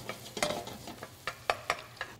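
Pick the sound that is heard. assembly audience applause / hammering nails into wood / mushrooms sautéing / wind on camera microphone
mushrooms sautéing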